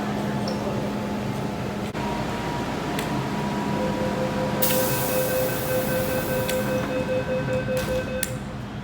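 An M train at Po Lam station gives off a steady mechanical hum with sustained electronic tones, and a sharp hissing burst comes in partway through over the constant station ambience.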